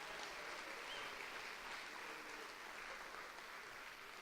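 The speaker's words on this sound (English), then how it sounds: "Let's give them a big round of applause." An audience at the 2019 Dutchies event applauds, a steady, even wash of clapping that holds through the whole stretch and fades slightly at the end, with no voices over it.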